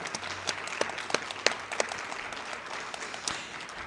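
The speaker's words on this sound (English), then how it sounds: "So let's give them a round of applause and thank them." Applause from a moderate crowd at the Pinnacle Awards evening, a steady patter of clapping with sharper individual claps standing out, continuing at an even level.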